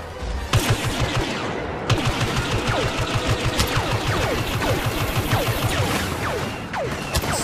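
Rapid sci-fi blaster fire from a Star Wars Battlefront match rattles on continuously at close range, with dense overlapping shots and whizzing streaks throughout.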